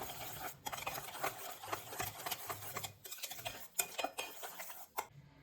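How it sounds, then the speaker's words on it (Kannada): Whisk beating a curd mixture for Mangalore buns in a bowl, a busy continuous clatter and scrape with a few brief pauses, close and fairly quiet, no voices. "ಎಲ್ಲನೂ ವಿಸ್ಕಲ್ಲಿ ನೀಟಾಗಿ ಮಿಕ್ಸ್ ಮಾಡ್ಕೊಳ್ಳಿ."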